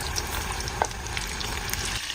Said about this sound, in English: Carefully drop the chicken pieces one by one.